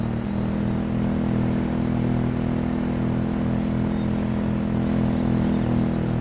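A motocross bike engine in the video game Alma Missuri drones steadily and loudly throughout, a continuous buzzing hum with no breaks or talk.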